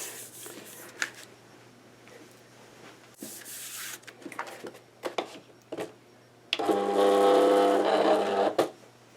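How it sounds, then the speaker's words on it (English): A Silhouette Cameo cutting machine loading a cutting mat: scattered clicks and handling knocks, then a loud whirring motor burst of about two seconds as the rollers pull the mat in, close and alone. "now it tells you to make sure your rollers are lined up and hit load cutting mat"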